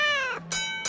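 A cat meows loudly and close by in an arena in an animated comedy, giving a long falling cry followed by two shorter, quick meows with no talk over them.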